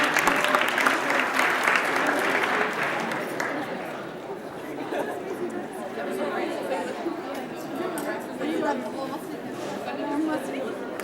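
An audience breaks into sustained applause at a Fastathon community gathering, welcoming a speaker to the stage, with claps and crowd chatter filling the hall, loudest at first and settling to a steady level.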